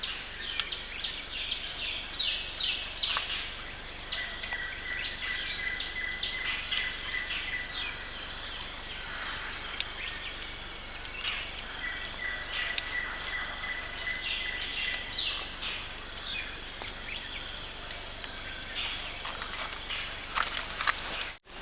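In a morning forest, birds sing continuously through the whole stretch, with repeated chirping phrases layered over a steady insect-like hiss and no talking.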